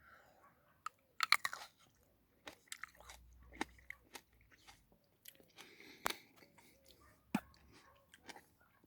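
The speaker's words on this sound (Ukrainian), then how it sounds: "як ягода хрумтить" Close, crisp crunches of a Black Royal grape berry being chewed, irregular bites and squishy mouth sounds with quiet pauses between.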